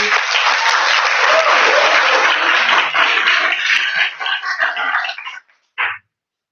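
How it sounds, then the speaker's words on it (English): Audience applause at a startup pitch event in Timisoara, a loud, sustained round of clapping from a packed room that thins out and stops, followed by one brief trailing sound. "We need a big round of applause, everybody."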